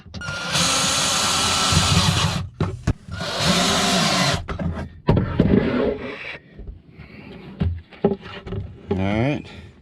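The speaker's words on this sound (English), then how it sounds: "So now I'm going to screw these back down where they should be." A drill drives screws back down into an RV shelf in two long, loud whirring runs, followed by shorter bursts and knocks, with a person speaking in the gaps.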